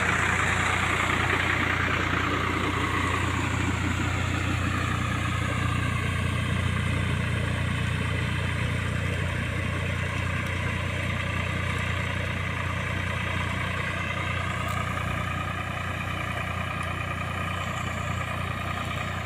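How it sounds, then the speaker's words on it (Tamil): A tractor ploughs a field on a farm, its engine running in a steady, continuous low drone that holds at an even level throughout, with no talking over it. "இங்கே ஒரு டிராக்டர் ஏர் ஓட்டிக்கிட்டு இருக்குது"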